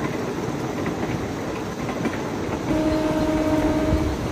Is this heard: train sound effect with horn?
yes